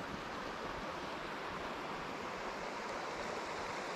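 The Boulder River flows steadily nearby on a cold morning in the low 40s, a continuous broadband rush of moving water with no breaks, fairly loud and close, with no voices.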